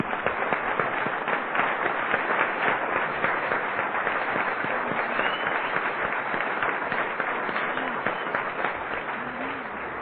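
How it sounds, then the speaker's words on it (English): Loud, sustained applause from a large crowd at an old-timers roundup in Jackson, Mississippi, dense clapping filling the whole stretch without a break. "give her another round of applause"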